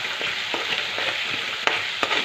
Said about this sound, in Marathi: हिरवी मिरची आपल्याला अशी दोन ते तीन मिनटं चांगली परतून घ्यायची आहे